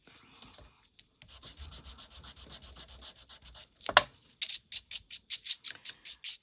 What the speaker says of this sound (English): Not all cardstock will like this sand eraser.